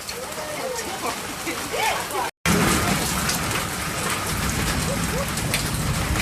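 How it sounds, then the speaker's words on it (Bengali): Rain pours down in a constant close hiss of drops hitting surfaces, loud and unbroken apart from a momentary cut, while people talk over it. "দেখো আমাদের এখানে বৃষ্টি হচ্ছে"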